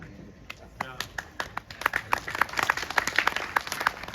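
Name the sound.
audience applause at a poetry gathering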